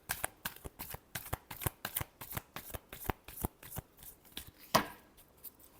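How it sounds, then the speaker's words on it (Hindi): Tarot cards are shuffled by hand in a steady run of crisp, riffling slaps, about three to four per second, close and clear with no talking, ending on one sharper final snap. "Last shuffle."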